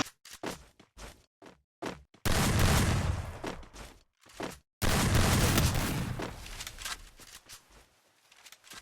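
Video game gunfire opens with a quick run of single sharp shots, then breaks into two long, dense automatic bursts, loud and close, with no talking.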